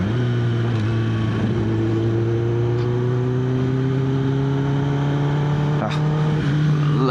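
Triumph Tiger 800 motorcycle engine and exhaust running steadily close by, a continuous droning hum with rising pitch as it revs, plus a brief blip near the end; a voice talks over it intermittently.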